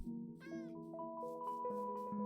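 A Minecraft cat gives a clear, close meow followed by a string of soft tonal mews, over faint game music.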